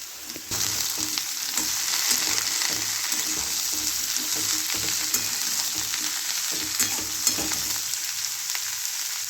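Cauliflower and potato sizzle loudly in a pan as they are fried Bengali style, a steady bright crackle with a sudden jump in intensity near the start and intermittent scrapes of stirring throughout.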